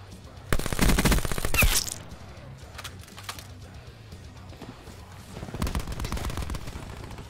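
Gunfire in the video game Call of Duty Black Ops 4, a loud burst of rapid automatic fire followed by scattered sharper single shots and another stretch of firing, with no voices.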